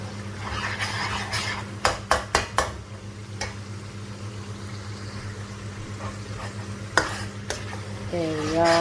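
Chicken liver curry with broken-down tomatoes being stirred in a pan, a steady sizzle of frying under a low hum, with a few sharp clacks of the spoon against the pan.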